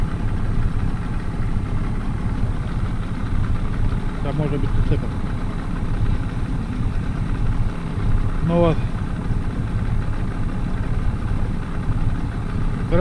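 A small outboard motor on a fishing boat on a Karelian lake, idling with a low steady drone throughout while people talk over it.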